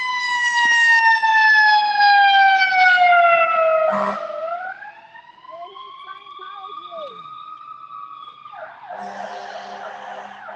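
A fire engine siren wailing loudly at a street protest, a sustained high tone that drops and bends in pitch midway, then fades as the truck moves on, with faint voices nearby.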